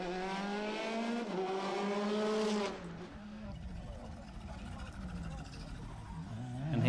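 Peugeot R5 rally car on a British Rally Championship stage at Ypres, engine revving hard through rising and falling gear changes for a few seconds, then cutting to quieter rumbling road noise with a faint voice and a fresh surge at the end.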